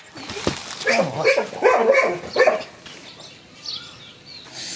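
A dog barks several times in quick succession, fairly close and loud, with a softer whine trailing after, and no speech.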